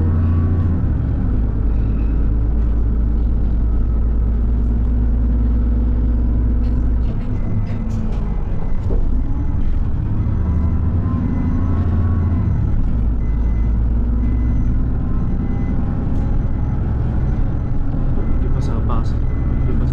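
A city bus in New Zealand rumbles steadily from inside while riding, a loud low engine drone that shifts with acceleration and braking, with a voice talking over it.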